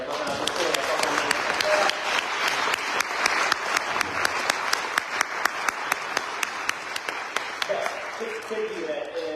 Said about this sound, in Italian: vi invito a fare un applauso